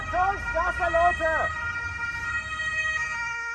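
An ambulance siren wails in a rapid rising-and-falling pattern on the A100 motorway, then cuts off, leaving steady traffic noise and a faint tone as a voice speaks.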